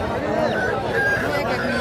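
Roosters and hens at a weekly country chicken market in Anakapalli district, crowing and clucking amid a dense crowd hubbub, with people talking close by.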